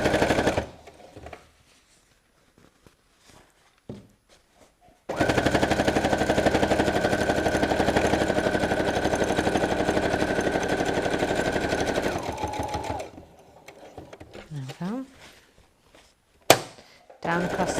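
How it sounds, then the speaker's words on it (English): Sewing machine top stitching the edges of a square cushion pad at a longer stitch length, a steady loud mechanical run of about seven seconds, framed by short bursts and quieter handling with a voice talking before and after. "we also want to do some top stitching right down the front"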